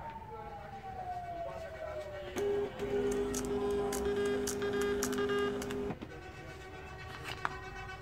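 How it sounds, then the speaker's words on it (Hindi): A Zebra TLP2844 direct thermal printer prints sticker labels, giving a steady mechanical whirring hum for several seconds amid a faint background tone and light ticks. "इसको हम प्रिंट देते हैं, तो ये आपको दोनों स्टिकर्स के ऊपर एक एक प्रिंट आएगा।"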